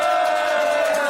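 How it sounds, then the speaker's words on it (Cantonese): A group gathering at the end of a Toronto to Montreal bike ride cheers and whoops for Eliza in a steady, loud crowd roar lasting about a second, with no clear claps standing out. "我哋俾啲掌聲Eliza先"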